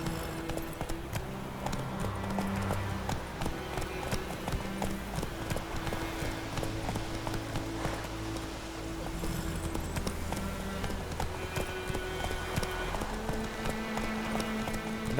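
Roach, the horse in The Witcher 3, gallops with a steady rhythmic clip-clop of hooves throughout, close and continuous under ambient game music.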